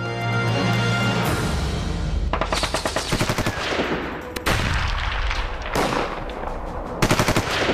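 Heavy machine gun fire from the 1971 war, as the Pakistan Army fired on East Pakistan, comes in loud, sustained rapid bursts that repeatedly break off and restart, with a booming low rumble underneath.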